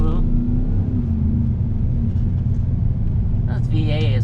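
A 2016 Chevy Silverado Z71 pickup with a V8 drives along, giving a steady low engine rumble heard from inside the cab, with a brief higher sound near the end.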